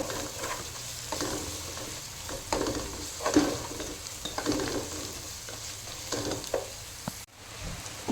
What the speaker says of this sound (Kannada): ಇವಾಗ ಜಿಂಜರ್ ಗಾರ್ಲಿಕ್ ಪೇಸ್ಟ್, ಕಾಯಿ ಮೆಣಸು ಅದೆಲ್ಲ ಹಾಕಿ ಇವಾಗ ಸ್ವಲ್ಪ ಹೊತ್ತು ಫ್ರೈ ಮಾಡಿ